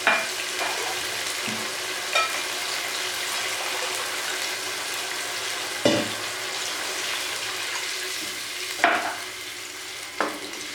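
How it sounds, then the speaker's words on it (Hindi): Water is poured into potatoes frying for an aloo anday curry gravy, giving a steady sizzle with a few sharp stirring clanks and splashy bursts, close and moderately loud, with no talk. "अब हम शोरबे के लिए इसमें पानी डालते हैं।"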